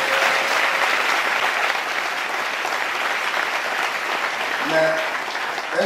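Church congregation applauding together, a dense, steady wash of clapping that holds at full loudness throughout, with a brief voice or tone rising near the end.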